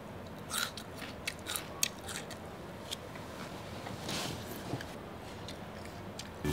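Close, crisp crunches of teeth biting into a raw, crunchy Indian gooseberry (yuyougan), followed by quieter chewing, with no talking.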